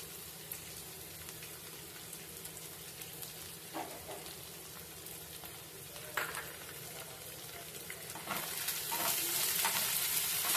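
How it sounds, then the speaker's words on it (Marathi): Sliced onion and capsicum sauté in a pan for veg noodles, making a soft, steady sizzle with occasional stirring clatters that grows louder toward the end. "आता गॅस कमी ठेवून हे चांगले परतवायचे आहेत सगळ्या भाज्या."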